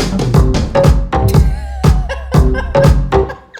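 A funky sampled drum fill from a sample search in an Ableton 12 dance/pop production, with punchy kicks, snares and bright hits in a quick syncopated pattern, loud and up front with no talk.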